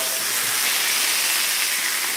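Hamburger slider patties fry in a hot pan with a loud, steady sizzling hiss close by, unbroken for the whole moment.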